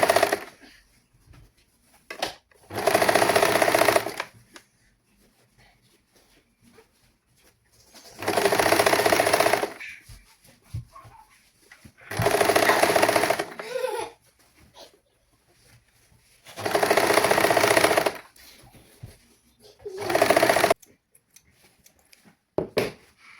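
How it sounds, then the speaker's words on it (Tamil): A sewing machine stitches a saree blouse in five loud bursts of a few seconds each, separated by short near-silent pauses, with no talking over it. "இனி நான் வந்து இதில் படிமான தையல் போட போகிறேன்."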